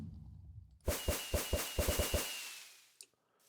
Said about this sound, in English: beacons increasing the speed will also make this dandelion firework go higher